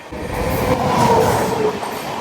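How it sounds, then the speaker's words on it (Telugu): A train rolls past at a level crossing, a loud, steady rumble of wheels and carriages with a faint rhythmic clatter and a slight squeal, heard without talk. "క్రాసింగ్ వస్తుంది చూడండి ఒక క్రాసింగ్ ఒక ట్రైన్"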